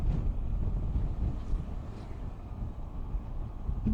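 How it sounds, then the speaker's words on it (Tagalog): Heavy low buffeting rumble of strong wind battering the microphone while riding a Suzuki Burgman 125 scooter in Ilocos Sur, continuous and close, with a faint engine-like drone underneath and no talking. "Lakas ng hangin kasi"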